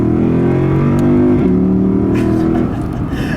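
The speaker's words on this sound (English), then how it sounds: "Does a really good job of shifting up nice and quick" A 2012 Lexus IS F with its 8-speed torque-converter automatic accelerating hard, loud steady engine drone rising in pitch with a couple of quick upshifts, the note dropping and climbing again near the end.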